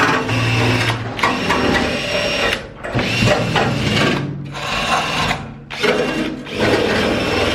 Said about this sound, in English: So now I've just got a little wire wheel on my drill.